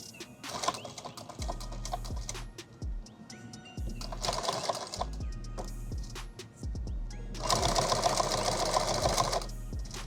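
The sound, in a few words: sewing machine sewing a bag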